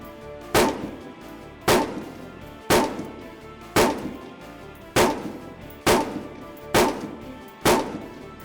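Rifle shots fire at an Army shooting range, eight sharp, loud reports spaced about a second apart, each followed by a short echoing tail.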